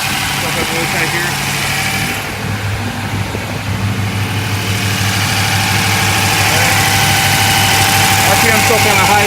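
A 1959 Chevrolet Corvette engine idles close by at a fairly high RPM, a steady low rumble with a constant hum running through the whole stretch.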